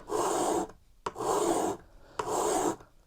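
A small iron from a mini block plane is honed on a 1000 grit plate in three steady, even rasping strokes. Each stroke is close and distinct, with short pauses between passes.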